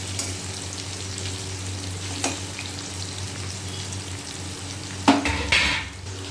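Potatoes frying in a pan, a low steady sizzle close by, broken by a few spatula scrapes and a louder stirring clatter near the end.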